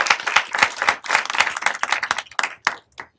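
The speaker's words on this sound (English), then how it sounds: "a round of applause for our two" An audience claps for two panelists at the close of a youth and family event, a steady round of close, lively applause that thins out and stops near the end.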